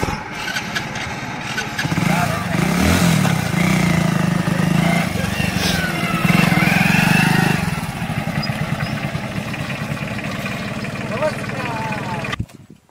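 A tractor's engine revs and rumbles loudly as it is driven off, its throbbing drone then fading to a lower, rougher running sound while people talk nearby.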